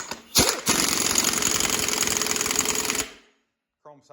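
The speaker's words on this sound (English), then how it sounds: "grab a torque wrench," Rapid rattling power-tool burst, likely an impact or ratchet wrench run on a bolt of a methanol turbo engine being readied for a Camaro, loud and steady for about three seconds after a short blip, then stopping, with a brief voice at the end.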